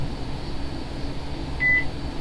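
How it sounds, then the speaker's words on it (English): A mobile phone gives a single short, high, steady notification beep near the end, clear against a constant low room hum with no talking. "Oh, my phone beeped."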